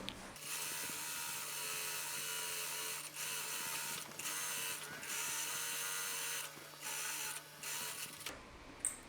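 A sewing machine runs a gathering stitch along a fabric ruffle for a long basic dress, a steady close mechanical whirr with brief pauses, then stopping near the end.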